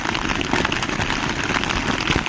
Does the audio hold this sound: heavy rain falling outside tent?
yes